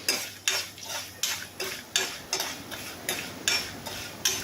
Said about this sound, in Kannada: ಎಲ್ಲ ತರಕಾರಿಗಳನ್ನ ಹಾಕಿ ಬಾಡಿಸ್ಕೊತಾ ಇದ್ದೀನಿ